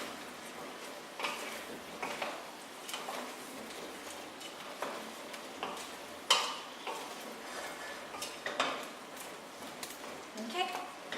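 Spoon stirring seasoning through pumpkin soup in a pot, giving a run of soft, irregular scrapes and light clinks against the pot sides at close range.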